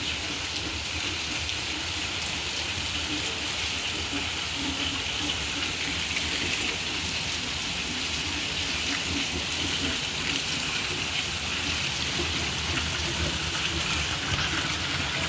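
Sudden heavy rain pouring down, a dense steady roar of water that holds unbroken throughout, broad and loud.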